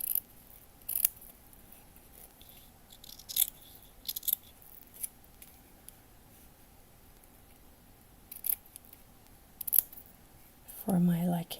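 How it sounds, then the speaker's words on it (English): Sharp scissors snip fabric for a dollhouse room box, giving a handful of short, crisp cuts spaced irregularly over a quiet background, with a fuller rustle of handled material at the end. "I might have to cut a tiny bit off the fabric here."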